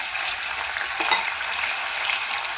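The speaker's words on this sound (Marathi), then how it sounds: "तेल पण गरम झालेलं आहे। तर याच्यामध्ये जिरे मोहरी टाकून घेऊया" Cumin and mustard seeds hit hot oil in a pan, giving a steady crackling sizzle with a brief sharper spatter partway through, close and continuous.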